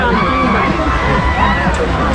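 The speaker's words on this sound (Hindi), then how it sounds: "लोग भीड़ चेक करिए, भीड़।" Dense crowd hubbub at the Bojiya Kartikeshwar fair in Chhattisgarh near the Meena Bazaar, loud continuous babble of many voices and bustle close around, with no pauses.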